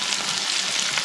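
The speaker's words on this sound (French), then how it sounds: "on a tout trempé dans la farine, maintenant on a mis dedans dans l'huile bien chaude" Freshly caught fish, dipped in flour, fry in very hot oil beside a red-sand beach, giving a close, dense, unbroken sizzle with no voices.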